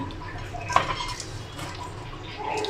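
A knife cuts through a homemade Mughlai paratha on a plate, giving a sharp clink of metal against the plate and soft scraping and tapping in a quiet kitchen.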